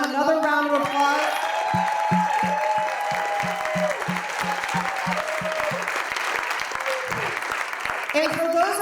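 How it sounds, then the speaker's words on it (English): A round of applause for contestants at a Toastmasters contest, sustained crowd clapping under a rhythmic pulsing musical backing, with a voice talking over the start and end. "Can you please give them another round of applause?"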